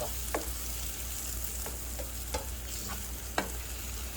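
Apples sizzle steadily in melted butter in a pan while being stirred, with a constant frying hiss and a few sharp scrapes of the utensil against the pan.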